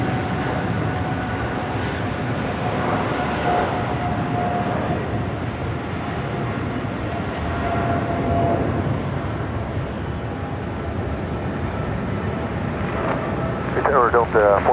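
Airliner landing at Sydney Airport, a steady roar of jet engines and rushing air that swells and fades slightly. Radio voices and talk run over it throughout.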